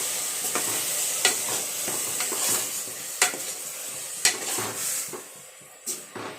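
Ground sprouted-gram masala paste sizzles softly in a pan while a spoon stirs it, scraping taps landing every second or so over the steady fry hiss, close and fairly quiet.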